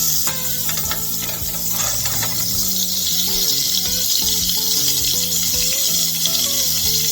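Oil and butter sizzle in a skillet while onions start to soften for a no-dough pizza skillet, a steady bright hiss running the whole time beneath tuneful background music.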